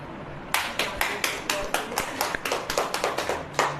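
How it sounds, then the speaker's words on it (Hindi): Congregation clapping at a Hindi Christian sermon: a run of about twelve sharp, evenly spaced claps from many hands, close and loud, with no talking over them. "ताली।"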